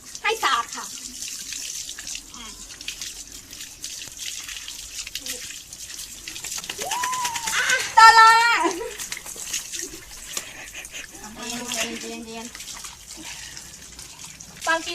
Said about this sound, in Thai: ต่อไปเราก็จะล้างน้ำสะอาด